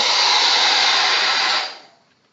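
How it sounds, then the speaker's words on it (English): A blow dryer heating a Jamberry nail wrap, a loud steady airy whoosh close up that runs evenly before switching off and winding down to silence near the end. "Now, that was with a blow dryer."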